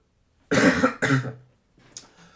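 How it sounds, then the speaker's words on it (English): Two harsh coughs in quick succession from a person who is sick, close and loud, followed by a faint breathy sound. "sorry for coughing"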